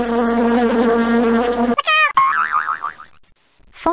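Buzzing bees from five hives in the 123-CD PC game, a steady loud insect drone followed by short springy boing-like effects and warbling tones.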